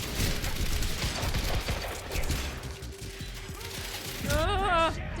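Rapid heavy pistol shots crackle in the video game Quantum Break amid dense action noise and mechanical clatter, followed by a warbling electronic tone near the end; a voice speaks partway through.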